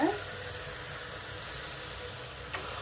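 Washed bone-in mutton pieces dropped into a hot pan of oil and spices, giving a steady, broad hiss of sizzling frying that holds evenly throughout, with a faint clink near the end.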